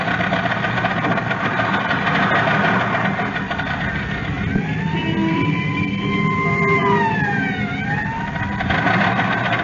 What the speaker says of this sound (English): There goes the ambulance up the mountain.